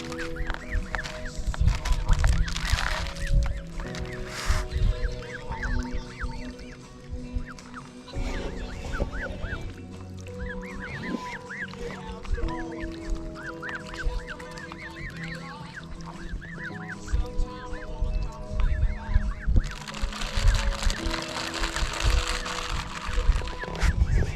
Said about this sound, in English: you're definitely a new family of ducks